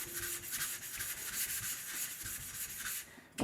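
A straight razor being honed on a 1000 grit sharpening stone to set the bevel, with steady rhythmic scraping strokes back and forth, close and moderately quiet.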